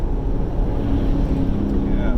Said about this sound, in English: Somebody in their pickup truck just going as fast as they can. It's making a lot of noise.